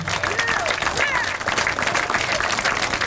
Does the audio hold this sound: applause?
yes